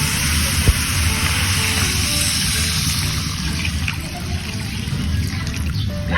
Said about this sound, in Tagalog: So maglagay tayo ng tubig.